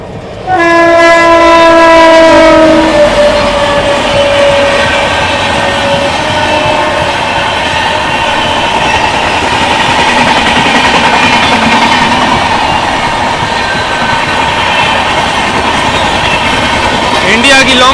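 A Humsafar Express train runs close alongside and overtakes on Indian rails, opening with a loud, sustained two-tone horn blast, then a steady heavy rumble and rattle of wheels and carriages for the rest of the stretch.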